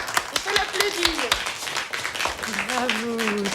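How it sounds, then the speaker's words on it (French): A small group claps in a quick, uneven burst indoors, while several voices talk and call out over the applause. "On peut l'applaudir."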